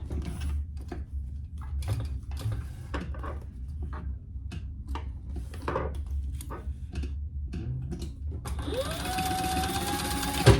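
A sewing machine bastes fabric in place for a multipurpose zipper case, with quick rhythmic stitching bursts separated by short pauses, then a steadier whirring run near the end; no voices.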